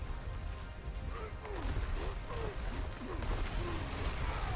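An earthquake skill in Diablo 4 strikes with a crashing, rumbling impact, followed by scattered thuds, whooshes and debris rattles that swell slightly louder toward the end.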